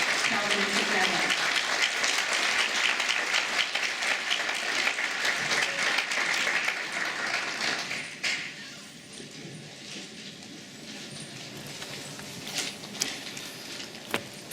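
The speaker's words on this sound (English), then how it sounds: "how about a warm round of applause?" Warm, sustained applause from a philanthropy event audience greeting keynote speaker Kelvin Taketa, steady dense clapping for about eight seconds, then a softer lingering patter as the room settles.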